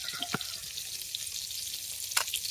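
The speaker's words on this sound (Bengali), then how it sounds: "মাছগুলোকে ভাজতে বসিয়ে দিয়েছি মাছগুলো ভাজা হতে থাক" Koi fish frying in a hot pan for a coconut malai curry, giving a steady close broadband sizzle with a couple of brief louder spits and crackles.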